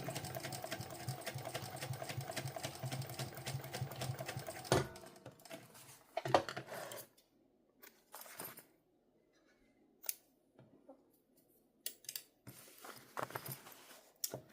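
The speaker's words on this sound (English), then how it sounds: "I've still got my machine down to a measly 380 stitches a minute. Now we can speed her up a little bit" A sewing machine stitches leather at a sped-up pace from its earlier 380 stitches a minute. A dense, rapid mechanical whirr runs for about five seconds, then gives way to scattered short clicks and handling noises.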